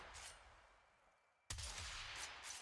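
The Corinth hybrid shotgun in the Warframe video game fires one sudden heavy blast after a quieter stretch, leaving a loud lingering roar, with no talk.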